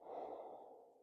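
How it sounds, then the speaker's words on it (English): A single long, steady breath during a standing yoga flow, close and soft, a breathy rush that gently fades over about a second with nothing else heard. "One more breath here."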